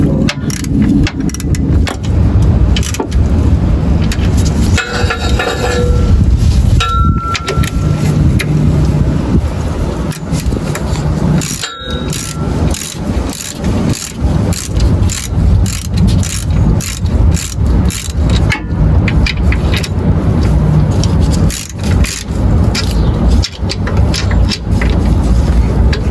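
A ratchet clicks in repeated bursts while bolts are tightened on a Jeep during a build, close and fairly loud, with rattling metal and pauses between strokes.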